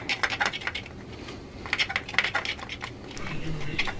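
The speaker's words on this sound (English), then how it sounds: "Stir it up good." A stir stick scrapes and clinks against a small container while fiberglass resin and hardener are mixed, producing light, irregular ticking strokes that stay close and moderately loud.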